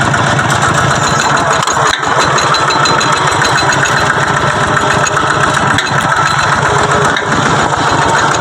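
A farm vehicle's engine runs loud and close after a shift into second gear, a steady, dense mechanical drone with rapid low throbbing and no talk on top.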